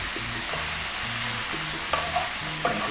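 Onion, garlic and other ingredients brown lightly in a frying pan, a constant close sizzle broken by repeated knocks and scrapes of stirring.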